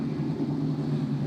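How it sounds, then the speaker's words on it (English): Indy Lights race car engines hum and idle in the pit lane at the 2019 Indianapolis Grand Prix, a steady, low, droning rumble with no other sound over it. "Engines come to life down here on pit"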